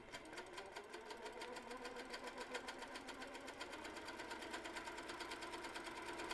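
A sewing machine runs steadily, stitching a quilt block with a fast, even needle rhythm throughout, close and moderately quiet with no talking.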